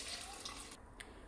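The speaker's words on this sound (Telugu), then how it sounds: "సో ఈ కప్తో 2 cups ఆఫ్ వాటర్ యాడ్ చేసుకుంటున్నాను ఇందులోకి" Water being poured into a pot of uncooked rice, a soft splashing stream that cuts off partway, followed by a faint drip.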